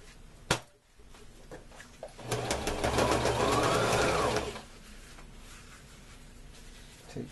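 A sewing machine stitches a garment bag being turned into a punching bag, running in a rapid, even burst of mechanical clatter for about two seconds between quieter handling sounds.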